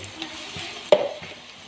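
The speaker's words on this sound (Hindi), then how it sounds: "इसके अंदर अब मैं लहसुन अदरक का पेस्ट डाल रही हूँ।" Garlic ginger paste hits hot oil with frying onions in a pan, giving a brief close sizzle and stir rustle with one sharp burst midway.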